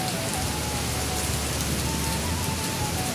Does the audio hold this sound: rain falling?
yes